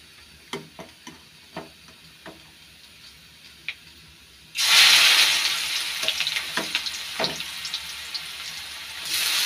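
Boiled radish goes into a hot pan: after a few quiet clinks of a spatula, a loud, sudden sizzle bursts out and keeps crackling strongly, with occasional utensil taps.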